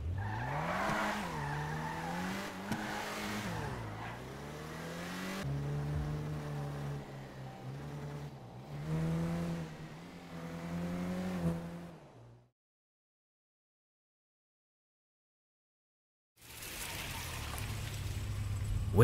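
Engine of a stolen car in GTA V revving and shifting through gears as it drives, loud and close, with rising and falling pitch sweeps, then cutting to silence before a burst of noise returns at the end.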